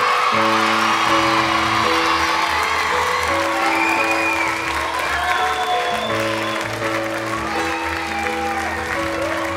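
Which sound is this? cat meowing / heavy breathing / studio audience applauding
studio audience applauding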